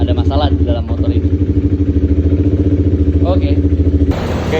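Honda CBR motorcycle engine with a faulty idle air control valve runs close and loud, a steady rhythmic pulsing idle with clattery overtones, while someone talks over it throughout.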